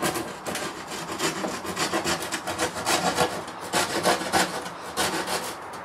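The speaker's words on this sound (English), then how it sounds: "you've got your mark there and just sort of rasp off" Steady, close rasping of a hand file across the edge of a homemade LARP shield, a dense run of rough scraping strokes pulsing with each pass, heard alone without talk.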